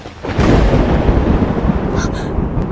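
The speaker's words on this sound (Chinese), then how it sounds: "我说的不是普通天雷，你看，来了。" Thunder drawn down by a homemade copper-clad steel lightning rod crashes in loud and close, a dense booming rumble that holds steady for nearly three seconds.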